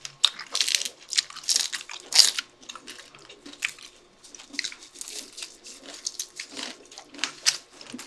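Crunchy lechon kawali, Filipino deep-fried pork belly, bitten and chewed up close in repeated sharp crisp crunches with wet chewing between them, no talking.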